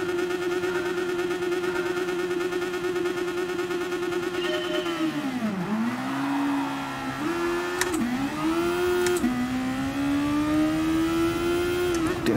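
A Super Formula race car in GT Sport sits at the start at Spa, its engine holding a loud steady drone, then dipping and climbing in pitch through gear changes as it pulls away.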